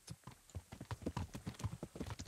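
A horse trots in the medieval game Kingdom Come: Deliverance, its hooves clopping in a quick, even rhythm, clear and close against a quiet background.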